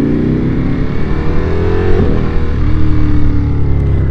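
A Ducati Panigale V4S fitted with a Termignoni four-outlet exhaust revs loud and close, its engine note rising and falling steadily with no one talking.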